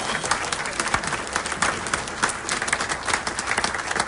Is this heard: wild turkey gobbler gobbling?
no